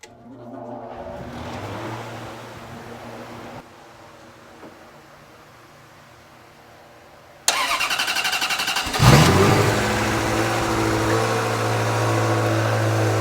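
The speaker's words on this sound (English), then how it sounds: "You guys will be able to hear the cold start." Ferrari F355 with about 80k miles cranking through a cold start: a quiet lead-in, then the engine catches abruptly, flares loudly and settles into a steady, close, high idle.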